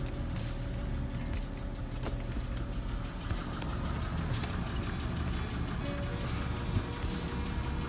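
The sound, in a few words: car engine running as it shifts into reverse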